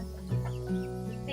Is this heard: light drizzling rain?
no